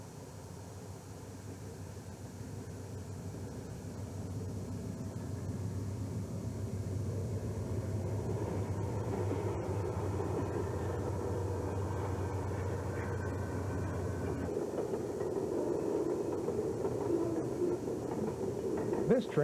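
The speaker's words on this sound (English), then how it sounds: "Here comes the 448 train now with a GE-built SF-30C on the point." A Santa Fe freight train led by a GE-built SF-30C locomotive, the 448 train with radio-controlled mid-train helpers, rumbles past with a deep, steady engine drone that builds and then shifts as the cars roll by.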